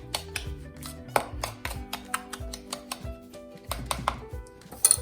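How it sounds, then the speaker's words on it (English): A spoon mixes a candy cane sugar scrub in a bowl, producing a rhythmic series of crisp clinks and gritty scrapes at roughly steady intervals, close and clear with no talking. "Just going to mix it with your spoon for about a minute."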